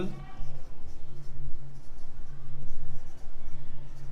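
Pen writing an accounting term's meaning on paper or board during a Class 11 lesson, steady soft scratching strokes for about four seconds alongside a faint low hum.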